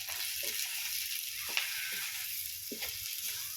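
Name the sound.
hot oil frying aromatics for rice noodle sauce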